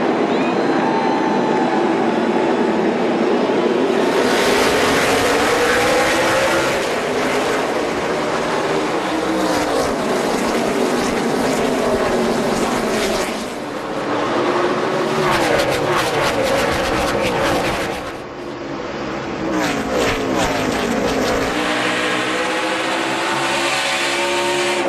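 NASCAR Nationwide Series race cars roar around Bristol Motor Speedway during the 2014 Food City 300, a loud, continuous pack drone with engine pitches sweeping up and down as cars pass.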